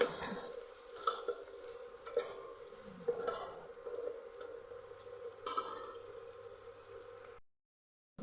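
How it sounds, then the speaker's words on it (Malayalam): Onions sauté with salt in a pan for an egg masala curry, a soft sizzle under repeated scraping strokes of a spoon stirring them, quiet and close, ending abruptly in silence. "ഉപ്പ് ഇട്ടിട്ടാണ് നമ്മൾ ഉള്ളി വാട്ടിയത്"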